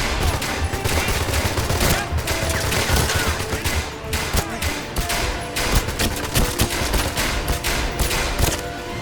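Sustained rapid gunfire from a shooter game, 007 Legends, with overlapping bursts of shots filling the whole stretch, loud and dense with little pause.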